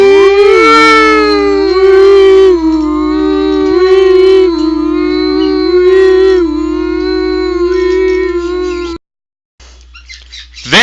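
A loud wailing siren cycles up and down continuously for several seconds, close and dominant, then cuts out abruptly near the end.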